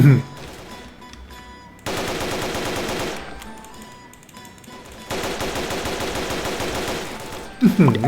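Rapid automatic gunfire in a Roblox Squid Game match comes in two long, loud, evenly paced bursts separated by brief pauses, with short vocal sounds at the start and end.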